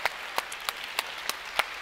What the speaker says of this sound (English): please also keep your applause up for Angeline Penrith